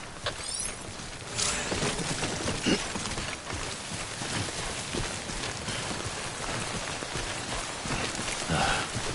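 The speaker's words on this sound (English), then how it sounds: "Don't stay out in the rain any longer than you have to." Steady rain of timefall in the video game Death Stranding, a dense hiss of drops pattering on surfaces with faint mechanical clicks scattered through it, continuous and fairly loud with no voices.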